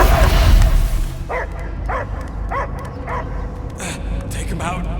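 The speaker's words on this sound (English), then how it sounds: "I hear only barking" A dog in the Guardians of the Galaxy video game barks in a run of five or six sharp, evenly spaced yelps, close and loud over a dense game score and rumble, with a brief voice near the end.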